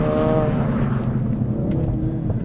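A Ford Focus RS driven hard on a race track, a loud close engine roar with a falling pitch as it passes through, buffeted by wind noise.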